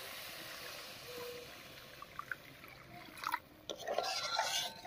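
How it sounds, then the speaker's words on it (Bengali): Hot water splashes and trickles into a simmering egg curry masala in a pan for a hotel-style duck egg curry, the pour growing louder and more turbulent toward the end, with a few small clinks earlier. "এই গরম জলটাই দিয়ে দিচ্ছি।"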